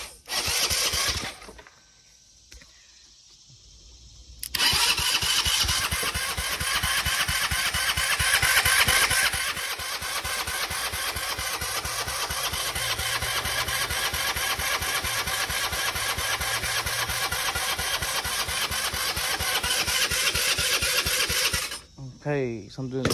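A 150cc scooter engine starts after some quiet handling noise and a short crank, then runs loudly and steadily up close with a buzzing, rapidly pulsing idle before cutting off near the end.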